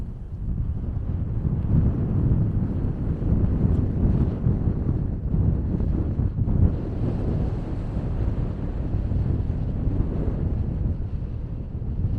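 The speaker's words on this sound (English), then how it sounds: "Really windy" Strong wind on open Dartmoor moorland in fog, roaring steadily and buffeting the microphone with loud low rumbling gusts throughout, with no voices.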